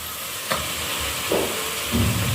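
A dry potato and eggplant sabzi fries in a pan with a steady close sizzle and hiss, broken by a few soft scraping and stirring knocks, with no talking.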